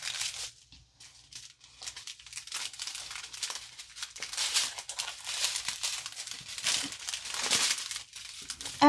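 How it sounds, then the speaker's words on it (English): Thin plastic film peeled back from a small tray of diamond painting wax, giving a close, steady crinkling and soft tearing rustle that swells and eases over several seconds, alone with no talking. "You'll want to peel back that plastic on the wax."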